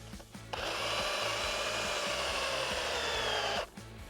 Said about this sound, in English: you want to angle your drill slightly up so that when you drill in